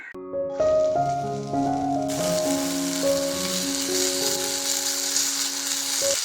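Tomatoes and cashews with a pinch of salt sauté in butter in a pan, a loud steady sizzle that starts a couple of seconds in and runs under a melodic background tune.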